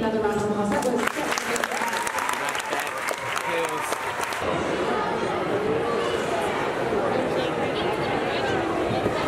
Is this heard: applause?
yes